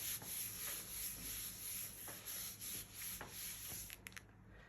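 Trimming card stock for a handmade greeting card, a steady rubbing, scraping cut that runs continuously for several seconds at close range, with a few brief ticks near the end and no voices.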